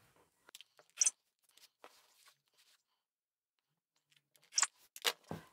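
Scissors cut a piece of quilt fabric to size, giving a few quiet, separate snips with soft rustling of cloth between them, close by and with no talking.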